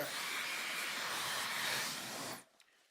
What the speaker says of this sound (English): that our wonderful trusty blow dryer blew the paint all around.